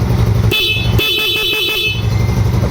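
A stock motorcycle horn beeps in short bursts: one brief honk, then a quick stuttering series of toots, over steady engine and traffic noise.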